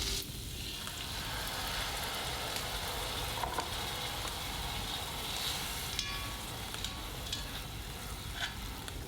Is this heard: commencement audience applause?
no